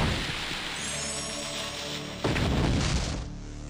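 A big explosion booms through a battle in the video game Naruto Ultimate Ninja Impact, a loud, dense rumble that surges again partway through before fading.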